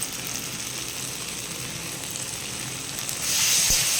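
Pointed gourd and prawn curry sautéing with spices in a pan, a steady close sizzle and crackle of frying oil that swells louder near the end with a brief knock of a utensil.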